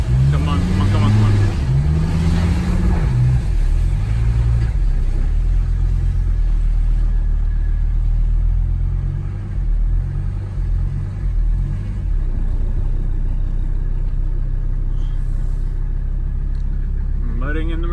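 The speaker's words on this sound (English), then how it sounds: "Mudding in the Mercedes." A Mercedes 300D diesel car pushes through mud, its engine a loud, steady low rumble with rising revs early on, then it settles into a continuous drone.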